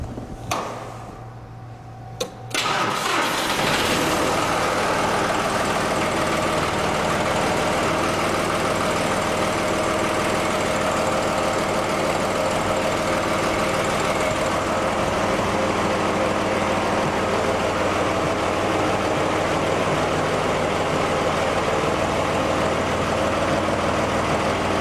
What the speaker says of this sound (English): I will then start the tractor, place it in the lowest gear possible with the engine all the way idled back